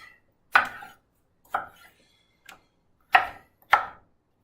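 Knife chopping avocado on a cutting board for an Asian-style bowl: five sharp, close chops spaced unevenly, loud and alone with no talk.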